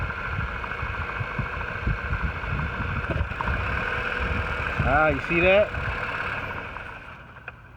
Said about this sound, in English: See, it cut the engine off.